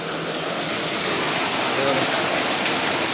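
Heavy rain pours down in a dense, continuous hiss, steady and loud for the whole stretch.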